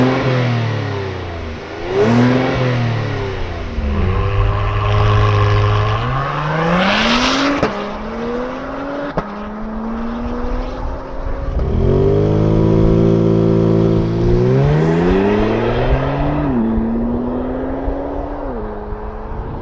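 A 2022 Acura TLX Type S exhaust heard from outside the car, revving loudly in a series of rising and falling sweeps, each climbing sharply and then dropping back to idle.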